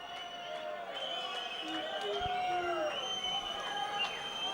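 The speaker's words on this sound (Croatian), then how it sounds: "Ove reakcije publike namijenjene su djevojci koja najavljuje runde." A fight-event crowd at an Ultimate Nokaut show cheers and shouts in a continuous, lively roar, with whistles and raised voices rising and falling throughout.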